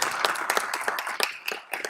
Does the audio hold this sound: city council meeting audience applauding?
yes